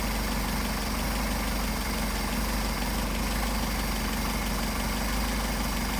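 A car engine idles steadily and evenly while its Solex 44PHH carburetors are adjusted, a constant low rumble with a faint vibration. It is close and unbroken throughout, with no voices.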